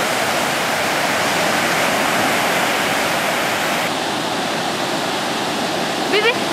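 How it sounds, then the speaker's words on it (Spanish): Strong surf pounding the beaches at the port of Chancay, a dense continuous roar of breaking waves, loud and close, with a brief higher-pitched voice near the end. "Por tercer día consecutivo sigue el fuerte oleaje en las playas del puerto de Chancay."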